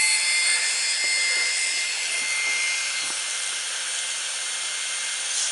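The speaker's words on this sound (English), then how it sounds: "we're gonna cut this motor back on" Electric kayak motor running steadily: a continuous high whine with a faint airy hiss, close and even, easing slightly toward the end, with no talking.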